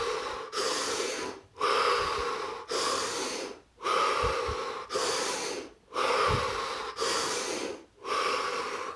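Slow, deep human breathing during a relaxation exercise: several long, loud, airy inhale-exhale cycles at a steady rhythm, close up and with no talking.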